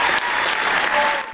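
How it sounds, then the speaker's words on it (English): A sold-out film festival audience gives a standing ovation, dense sustained clapping that fills the room, loud and continuous with a slight dip near the end. "The sold-out crowd was electrified by the film, giving Bouzbia a standing ovation"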